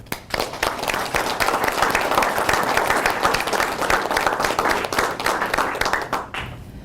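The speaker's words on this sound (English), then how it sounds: "Please join me in giving a round of applause to our staff for this work." A crowd applauding steadily, dense clapping from many hands that holds for several seconds before thinning out near the end.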